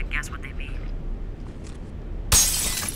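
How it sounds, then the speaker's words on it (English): A single sharp shatter of breaking glass in Condemned: Criminal Origins bursts in near the end, loud and close, following quiet ambience and faint murmured game voices. "Breaking glass, that's always good."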